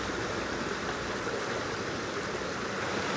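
A river rushes steadily beside an outdoor day camp, a close, constant broadband wash of flowing water with no pauses.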